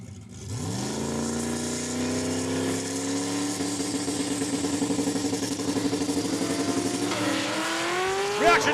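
A 1979 Chevy Camaro and a second Camaro launch side by side at a drag strip, with loud, steady engine roar that climbs in pitch as the cars accelerate away and a final high rev near the end.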